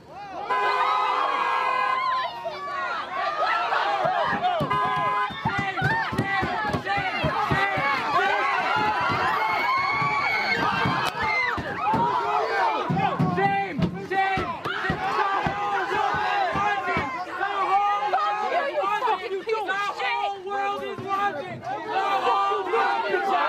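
Loud, dense crowd noise of protesters seated in a roadway as an ICE truck moves toward them, with overlapping shouts and cries rising and falling throughout, staying close and continuous.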